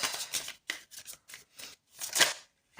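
Tarot cards being drawn and laid down on a table, heard as a run of short, soft papery slides and taps, several separate brushes with one longer swipe near the end, close and alone.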